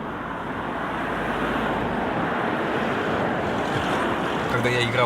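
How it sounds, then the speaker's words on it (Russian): Strong wind buffets the microphone by the English seaside, a loud continuous roar blended with surf that stays steady throughout. "Что-то ветер уже сильный"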